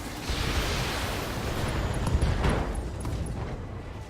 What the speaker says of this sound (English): Ammo explosion. Inflicted some heavy damage.